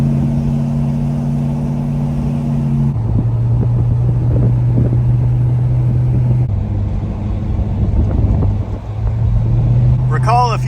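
A 1968 Dodge Charger's engine idles steadily up close with a low, even rumble, dropping slightly in pitch partway through, while a person talks over it.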